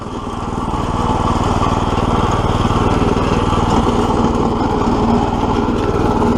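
A small 212 engine on a homemade belt-drive tractor runs steadily and loudly throughout, a rough, buzzy putter with a constant idle-like rhythm, close by and alone.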